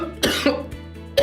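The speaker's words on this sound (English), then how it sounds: "I just need to cough it out." A man coughs sharply two or three times in quick succession, harsh throaty bursts close to the microphone in a quiet room.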